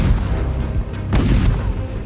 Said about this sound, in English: French artillery opened fire, trying to smash the ice with their cannonballs.